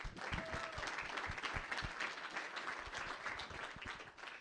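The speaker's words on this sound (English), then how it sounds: "So if you could please join me in giving them a big round of applause." Audience applauding at the MIT $100K Launch semi-finals, quiet and somewhat distant clapping with a few sharper nearby claps standing out from a steady wash.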